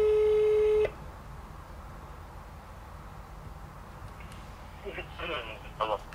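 A telephone call tone sounds as one loud, steady beep lasting under a second, then gives way to quiet line hiss with faint, distant voices near the end.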